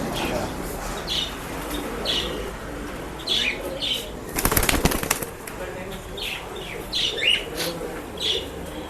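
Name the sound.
male pigeon released, flapping its wings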